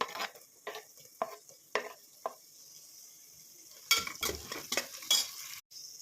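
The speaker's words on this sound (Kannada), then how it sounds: "ಈಗ ಸ್ವಲ್ಪ ಹಸಿ ವಾಸನೆ ಹೋಗೋವರೆಗೂ ಇದನ್ನು ಫ್ರೈ ಮಾಡ್ಕೊಳ್ಬೇಕು ಚೆನ್ನಾಗಿ" Capsicum with turmeric frying and being stirred in a pan, with a series of distinct scraping stirs early on and a louder burst of sizzling and utensil scrapes near the end.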